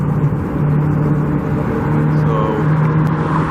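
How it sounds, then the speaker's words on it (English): A flatbed truck drives past a stadium construction site, its steady engine drone and low rumble running continuously and fairly loud at close range. "here's the flatbed truck"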